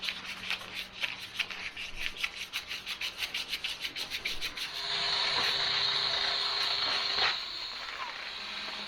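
Boat handles on a jon boat are sanded by hand with quick, rhythmic back-and-forth rasping strokes, which then give way to a longer, continuous scrubbing pass, close and fairly loud.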